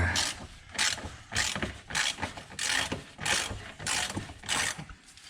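A 12 mm impact socket on an impact wrench loosens a sway bar bolt on a Honda EP3 during an aftermarket swaybar swap, heard as repeated rattling bursts of hammering in a steady pulsing rhythm, close and fairly loud.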